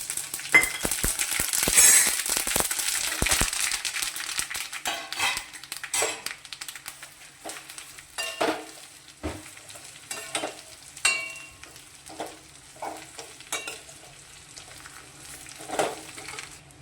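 Sesame seeds added to hot tempering oil with mustard seeds, curry leaves and chillies, a sharp burst of crackling and spattering at first, then scattered pops, spoon clinks and stirring scrapes against the pan.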